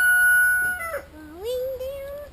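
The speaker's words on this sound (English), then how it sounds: "there's the white leghorn roosters out here" White leghorn roosters crow outdoors on a farm, one long clear call rising and wavering over about two seconds, loud and close, with a fainter second bird's note overlapping near the end.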